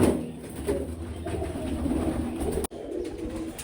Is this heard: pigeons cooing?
yes